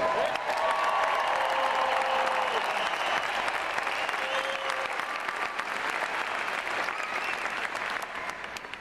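A commencement crowd claps loudly and steadily for the graduating class, with a few cheers and whoops mixed in, fading slightly toward the end.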